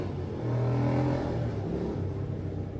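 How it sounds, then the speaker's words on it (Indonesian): Car engine revved at full throttle during a TPS sensor test, producing a close, rumbling roar that swells quickly, holds for about a second, then eases back to a lower drone. "Kalau kita gas pentok ya, pentok, volnya berkurang."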